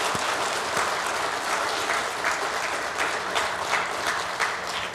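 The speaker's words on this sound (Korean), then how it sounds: "여러분, 이들에게 박수 한번 주시겠습니까?" A church congregation applauds in a sustained, even patter of many hands, filling the room at moderate loudness with no voices over it.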